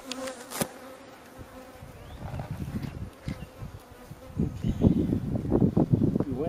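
A swarm of roughly three pounds of honey bees, handled in a bee container, buzzes loudly and close, the drone swelling and growing busier with rustling handling noises toward the end.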